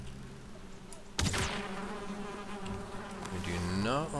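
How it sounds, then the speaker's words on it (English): Bees buzzing around a bee's nest in the video game Valheim, a steady close drone with wavering pitch, joined by a sharp sweeping whoosh partway through. "I do believe I see a bee's nest."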